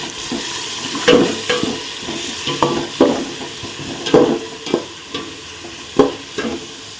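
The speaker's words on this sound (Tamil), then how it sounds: "கூடவே ஒரு மூணு பச்சை மிளகாயும் போட்டு நல்லா வதக்குவோம்" Mint, coriander and green chillies sautéing in a pan for egg biryani, loud rhythmic scrapes and clatters of a spoon stirring over a bed of sizzling oil, close by.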